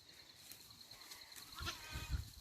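Goats in a paddock fenced with electric polywire: a quiet outdoor scene with a steady high hum, then a short bleat and some rustling and thumping movement close by near the end.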